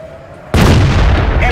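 A loud explosion of a destroyed enemy vehicle in a Centurion tank battle game, one sudden close blast that rolls on as a sustained rumble to the end.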